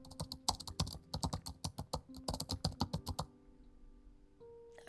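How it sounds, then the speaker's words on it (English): Fast, forceful typing on a laptop keyboard: a dense burst of sharp, close keystrokes that stops abruptly after about three seconds, leaving near silence. "maybe that typing was a little aggressive"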